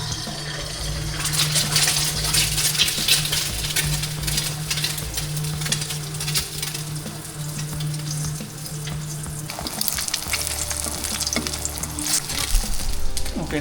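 Steady, loud sizzling of eggs frying in a hot pan for breakfast fried rice, crackling and spitting continuously with a few clinks of utensils and no voices.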